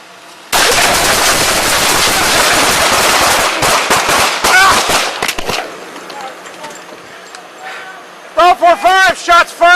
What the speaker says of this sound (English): shots fired, I'm hit.